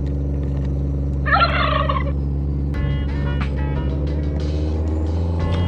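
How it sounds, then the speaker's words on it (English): A turkey gobbles once, clear and fairly close, outdoors on a snowy trail over a steady idling vehicle engine, with a few faint chirps and clicks following. "Couple little birdies."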